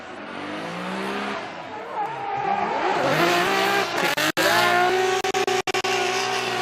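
A BMW E92 drift car at a Formula Drift Japan event screams close by, its engine revving hard as tires squeal in a long sliding skid, with abrupt cuts and bangs near the end.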